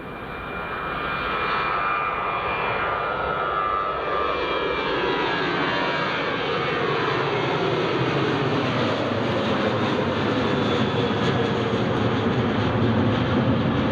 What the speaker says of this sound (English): the Jet2 A321neo that's about to depart has only been based here for 2 days